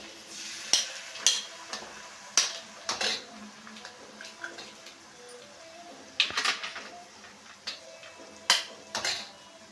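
A spoon scrapes and clinks against a pan while beaten eggs are stirred with chili powder and onions for Dhaba-style egg porutu. The metallic clatter comes in irregular bursts at close range, with no talking.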